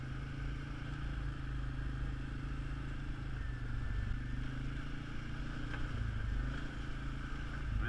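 An ATV four-wheeler rumbles along steadily over a large wooded rural property, its engine a continuous close drone with slight rises in pitch and faint rattling, no voices present.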